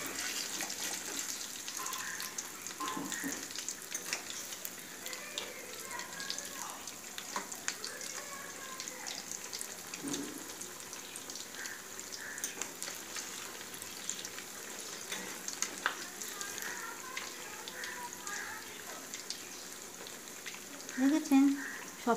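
Chicken chops frying in oil: faint, steady crackling sizzle throughout with occasional louder pops and a brief clatter near the end.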